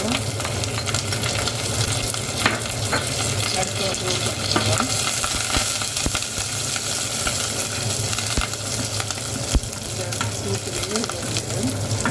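Onions frying in a pan with mustard seeds, cumin and curry leaves for Jaffna-style mixed vegetable rice, a loud, continuous sizzle with crackling and occasional stirring clinks throughout, no talking.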